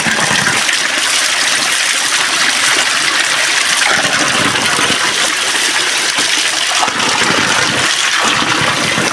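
Water from a tap runs in a steady, loud, continuous gush that fills the whole stretch with broadband rushing noise, with no voices over it.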